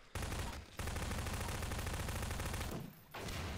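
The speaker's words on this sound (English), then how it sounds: "Shoot away my platform" Prop Hunt video game gunfire: loud, sustained rapid-fire bursts of automatic shooting, close and continuous, broken by two short pauses.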